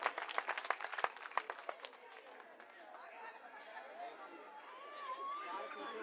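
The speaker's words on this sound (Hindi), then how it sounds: "जोरदार तालियों से स्वागत कीजिए" A crowd at an Aam Aadmi Party rally in Jangpura, Delhi, claps loudly for a couple of seconds, the applause fading into murmuring chatter and an indistinct voice over a loudspeaker.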